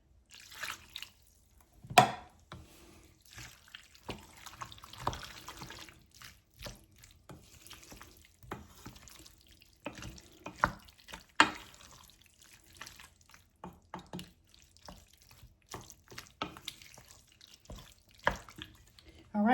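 Broth sloshes and swirls inside an empty soup can as it is rinsed out for a chicken pot pie, soft intermittent liquid splashes and clinks, close and quiet.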